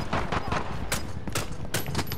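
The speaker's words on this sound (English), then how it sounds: "The guy's downed and I'm shooting him and I get shot in the back" Rapid gunfire from a battle-royale shooter game, bursts of sharp shots in quick clusters with broadband cracks, fairly loud and continuous, with a voice talking over it.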